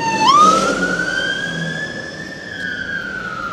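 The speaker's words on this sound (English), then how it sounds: "London Bridge, with some sort of emergency services you can hear in the background" A fire engine siren sounds near London Bridge, one sharp rising wail that settles into a long, steady tone as the emergency vehicle passes close by, over a faint city rumble.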